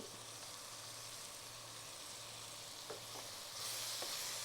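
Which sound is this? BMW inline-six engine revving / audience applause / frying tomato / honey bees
frying tomato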